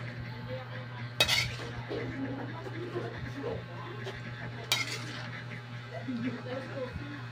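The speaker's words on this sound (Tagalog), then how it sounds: "hahanguin na po natin ito. Ilagay sa isang mangkok." Cooked takway (gabi roots) simmered with laurel being scooped into a bowl: two sharp clinks of utensil against pot or bowl, spaced several seconds apart, over a steady low hum and soft background clatter.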